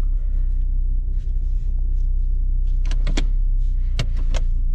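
A Volkswagen Golf Mk5 with a twincharger TSI engine idles just after starting, a steady low rumble near the microphone, joined in the second half by several short sharp clicks or switch sounds.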